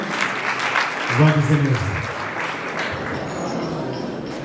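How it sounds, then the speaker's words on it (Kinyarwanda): Wedding guests applaud in a steady, dense wash of clapping that lasts the whole stretch, with a voice speaking briefly over it near the middle. "Reka tubakomere Imana amashyi menshi cyane"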